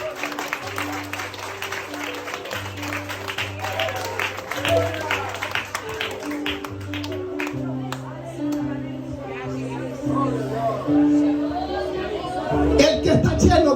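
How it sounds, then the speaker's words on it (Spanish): Congregation clapping during a church worship service, a rapid rhythmic patter of many hands over sustained keyboard chords, with voices and crowd chatter mixed in and a swell of louder sound near the end. "Un aplauso a Cristo."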